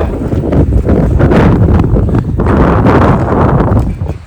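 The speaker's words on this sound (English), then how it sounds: "It's fall. It's crazy windy." Strong autumn wind outside a barn roars loudly and steadily, battering the microphone with heavy low rumbling gusts for the whole stretch, with no voices.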